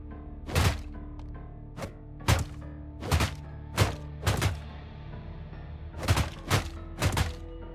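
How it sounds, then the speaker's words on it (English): Pianos being smashed in the action roguelite game Metavoidal: a series of loud, heavy thuds with crashing, splintering tails, about nine hits in an irregular rhythm and no talking. "I have to destroy the pianos"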